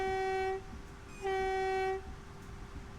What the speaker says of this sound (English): Let's try out the horn.